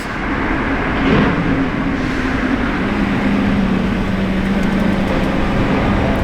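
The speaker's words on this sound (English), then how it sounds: "Revuelto coming back" Lamborghini Revuelto passing by, a continuous loud engine drone that swells slightly early and holds steady as the car goes past, with no talking.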